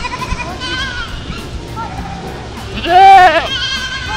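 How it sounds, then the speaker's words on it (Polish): A goat lets out one quavering bleat, close and loud, against a steady background hiss in a children's animal quiz. "To jest koza. Tak, to koza. Koza meczy."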